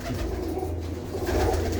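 Female pigeons coo in a loft, a low, continuous murmur of cooing from several birds nearby, with no talking.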